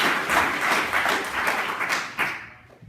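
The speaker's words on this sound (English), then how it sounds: "so big round of applause to Tobias." Applause at a UKIP youth conference in Manchester greets Tobias, a visiting Swedish youth chairman, with brisk clapping from a modest crowd that swells, fades, gets a final burst of claps, then drops away.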